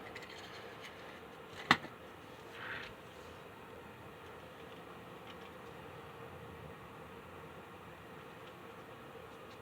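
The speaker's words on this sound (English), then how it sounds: "got some metal wheels on the old caboose. They seem to run really well" An HO scale Pennsylvania RR model train caboose with metal wheels running along track gives a faint, steady rolling whir, broken by one sharp click early on and a soft bump shortly after, with no voices.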